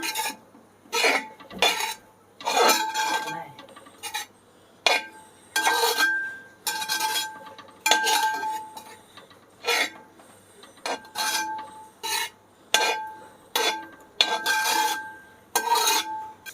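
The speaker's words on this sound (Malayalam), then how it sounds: "ഞാൻ നന്നായിട്ടൊന്ന് ഇളക്കി കൊടുക്കട്ടെ" A spatula scrapes and clinks in bursts against a pan on the stove as puttu and grated coconut are stirred together, a repeated rhythm of scraping strokes close by.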